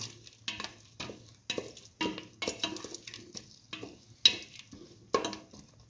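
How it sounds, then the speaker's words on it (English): Potato and coconut mixture with turmeric bubbling in a pan while a spoon stirs it, giving repeated close scraping and clinking strokes over a soft steady simmer. "Let the mixture boil."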